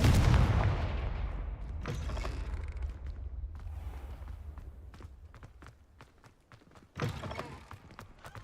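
Confringo fire spell blasts in Hogwarts Legacy: a heavy booming explosion opens loud, followed by scattered thuds and cracks that fade, then another sharp burst near the end.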